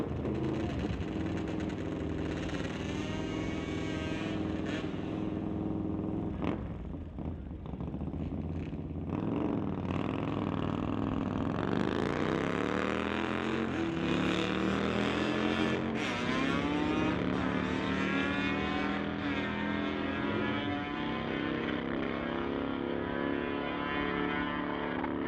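A drag racing motorcycle roars at the strip, its engine revving and climbing in pitch as it pulls away, loud and sustained with the rising tone holding for several seconds at a bike drags event.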